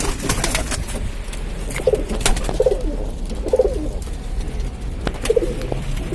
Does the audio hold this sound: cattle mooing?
no